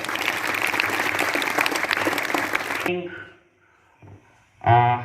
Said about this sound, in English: please give a huge round of applause to sir.